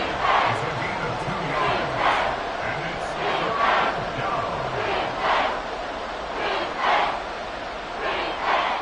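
A football stadium crowd roars and cheers in repeated swelling bursts over a constant murmur of voices, loud and spread wide, with a commentator's voice talking over it.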